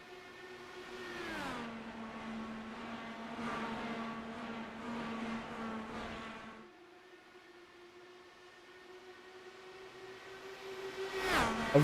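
Race cars accelerate on a green flag restart at the Indianapolis 500 in a racing game. Engine notes rise and hold near the listener, then a second car's whine climbs and ends in a loud close pass, with no talk.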